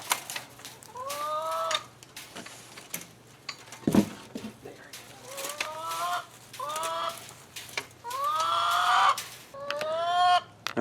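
Backyard hens in a garden chicken run cluck in repeated short bursts of rising, bubbly calls, close and fairly clear, with one sharp knock partway through.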